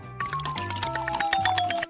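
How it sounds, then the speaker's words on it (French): Water pours onto a tree in a cartoonish house-decorating video game, a bright, bubbly liquid gurgle with a gliding tone over soft background music, lasting about two seconds. "Pour l'arbre. Non, mais il faut que je m'en occupe. Alors, je vais ajouter de l'eau."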